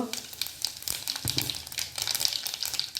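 Mustard seeds and asafoetida crackle in hot oil for moong dal usal, giving rapid irregular pops and hissing spatter, close up and continuous, with some faint voice in the background.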